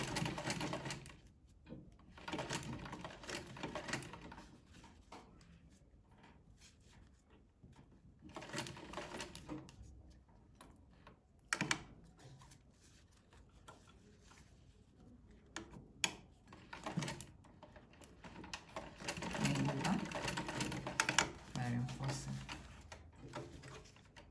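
A sewing machine stitches in an invisible zipper, running in several bursts of steady rapid stitching separated by short pauses, fairly close and alone.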